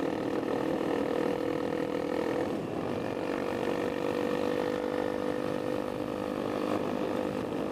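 A 2017 Honda CRF250L motorcycle engine running with the exhaust baffle removed and a suspected slight lean condition, a steady droning hum with a faint tonal whine, continuous and even throughout, no voices.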